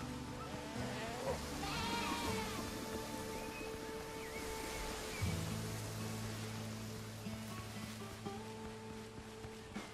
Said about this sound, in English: Keep away from the goats themselves.